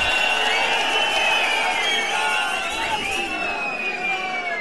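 Large crowd at an election nomination rally in Mandi, a loud, dense roar of massed voices and cheering that holds steady throughout, with the babble overlapping into a continuous wall of sound.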